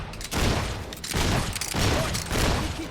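Gunfire in the fantasy action game Fable 3: repeated loud, dense bursts of shooting in three or four waves across a few seconds, with no voices over it.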